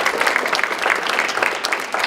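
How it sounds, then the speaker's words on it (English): An audience applauds a panel at a discussion on English learners, a full round of close, lively clapping with distinct individual claps throughout. "Please, let's give them a round of applause."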